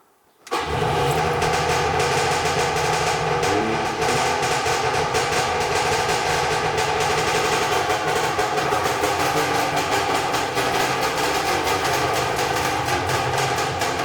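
A long-idle two-stroke Saab engine cranks steadily on the starter during a start attempt, a loud, continuous churning drone that begins abruptly after a brief silence and carries on without catching.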